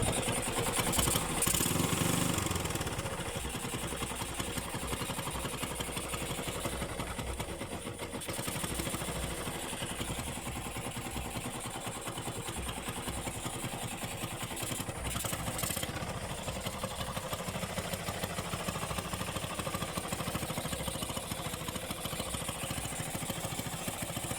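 A motorcycle engine runs loud and raspy for a long stretch, sounding as if it had no muffler, a steady rough roar with a burst of revving near the start.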